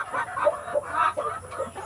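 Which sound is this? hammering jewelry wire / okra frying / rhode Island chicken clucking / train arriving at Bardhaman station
rhode Island chicken clucking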